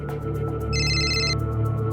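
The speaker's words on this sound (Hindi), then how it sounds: "मिश्रा जी का फोन।" A telephone rings once in a tense crime drama scene, a bright electronic trill lasting about half a second over a low steady room hum, with no voices.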